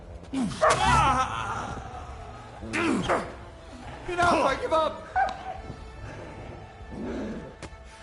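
A dog barks and yips in Kingdom Come Deliverance II, several short sharp bursts scattered across a few seconds, close and moderately loud, with a voice talking between them.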